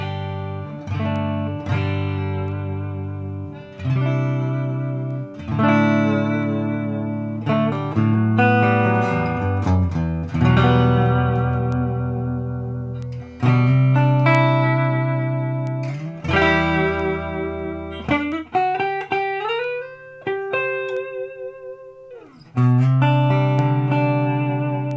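Clean Gibson ES-335 electric guitar on the neck pickup, played alone through a tube amp, picking warm, round notes and chords with sustained decays, no effects, in a steady phrased melody.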